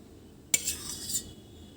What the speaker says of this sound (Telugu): ఇంకా ఈ మసాలా మంచిగా కలుపుకోవాలి